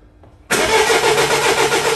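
A Mini Clubman diesel, parked up for two years and failing to start, cranks with a sudden loud onset that holds as a steady, dense mechanical churn with no catching or idle.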